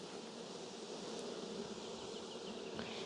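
Honey bees swarm and buzz around an open beehive while frames are checkerboarded, a steady dense drone filling the whole clip at close range, with no talking.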